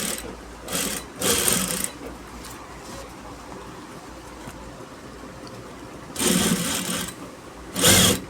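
A sewing machine with an 18-gauge needle stitching a hem strip onto jeans, running in short whirring bursts separated by quiet pauses, close and clear.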